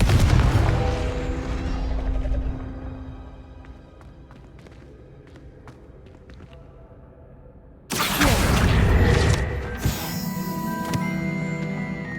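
The Confringo blasting spell goes off in the Hogwarts Legacy video game with a heavy booming blast up front that decays into scattered crackles. A second loud burst of explosive noise follows near the end.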